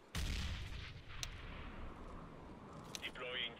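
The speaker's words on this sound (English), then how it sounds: "Grenade out." A grenade explosion in a video game: one sharp, booming blast at the start that decays into rumbling debris, followed by quieter scattered cracks and pops.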